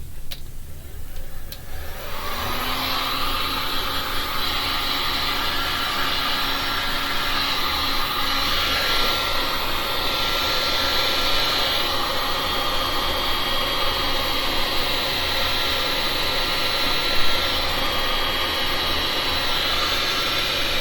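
A blower pushing air across wet resin paint on a poured Pomeranian pup figure, starting after about two seconds and holding a loud, steady rushing hiss to the end.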